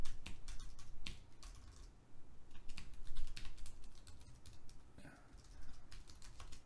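A Docker command is typed on a computer keyboard: rapid, continuous clacking keystrokes close up, with brief pauses and a few faster bursts over a steady low background hum.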